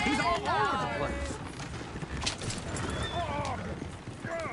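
Horses in the video game Red Dead Redemption 2 clatter past with clip-clop hoofbeats and a whinny, mixed with voices and game noise in a busy, loud scene.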